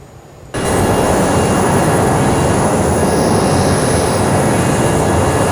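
Airliner engines roar up into reverse thrust on the runway after landing in a flight simulator, a loud, broad, steady rushing drone that starts abruptly and holds without letting up.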